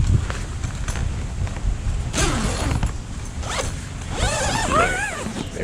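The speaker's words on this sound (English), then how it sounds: "Anybody into zipper ASMR," Zipper on the door of a Gazelle T4 hub tent being drawn open, several long rasping pulls with short pauses, close and loud against faint outdoor wind.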